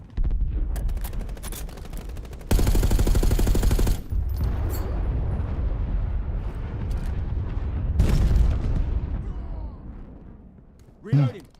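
Video game gunfire erupts in bursts of rapid automatic shots and loud booms, with one long sustained volley and another burst later, under a player's speech and game sounds.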